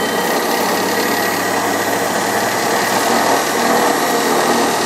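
A Grizzly metal lathe runs at speed with a steady, loud mechanical whir and hum that stays constant throughout, with no talking over it.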